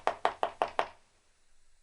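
Five sharp, evenly spaced knocks as piston rings are tapped down into a Triumph T120 motorcycle engine during a rebuild, close and fairly loud, then quiet.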